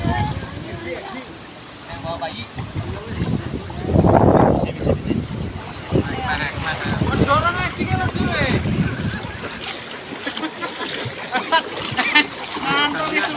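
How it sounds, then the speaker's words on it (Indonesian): A boat moves through floodwater with splashing and wind buffeting the microphone, while several people talk nearby throughout. "Nah, ini ada tim, ada perahu."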